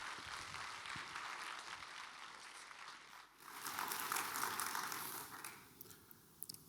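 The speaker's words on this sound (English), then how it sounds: "Give a huge applause." Audience applause at a conference as presenters are welcomed onstage, a broad wash of clapping from a sizable crowd that swells louder midway and then thins toward scattered claps.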